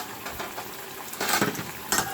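Figs cooking with shrimp in a pot are stirred with a utensil, giving soft, close scraping and clattering bursts over a low bubbling background, louder toward the end.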